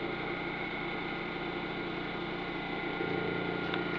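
Small flywheel motor powered from a battery charged by a back EMF harvesting circuit, a steady electrical hum with a fine rapid pulsing buzz, constant and close.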